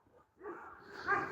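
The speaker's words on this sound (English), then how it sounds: "The dogs barking at the next door's neighbour's fence" Dogs next door at a neighbour's fence make a brief, faint whimpering bark at a distance, rising in a short burst near the end with no speech.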